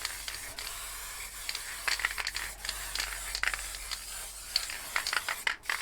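A spray paint can sprays dark green paint in short hissing bursts of uneven length, close and fairly quiet, with small clicks between the bursts.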